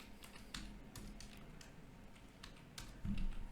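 Keys on a computer keyboard tapped in a quick, uneven run of light clicks, close and moderately quiet, with a slightly heavier thump near the end and no voices.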